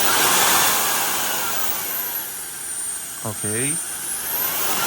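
A JKUOO mini turbo jet fan blowing, a loud, steady, breathy rush of air close by that runs throughout, with a brief spoken word near the end.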